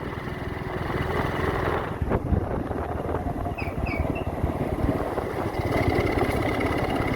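A motorbike carrying three riders rides along a village road, its engine droning steadily and fairly close, with a brief louder bump partway through and no talk over it.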